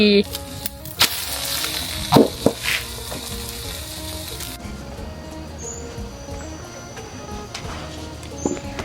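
Eggs sizzle in a frying pan with a steady hiss and occasional louder pops and clatters, close by, with some voices in the background.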